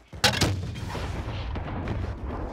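Gunfire in Call of Duty Warzone aimed at a helicopter, an opening cluster of sharp loud shots followed by booming echoes and a few fainter distant reports.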